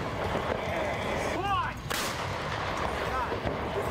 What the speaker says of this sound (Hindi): ज़ेलेंस्की ने अमेरिका से मिली M777 तोप दिखाई कि कैसे उसके धमाकों ने रूस की सेना के पैर उखाड़ने शुरू कर दिए हैं।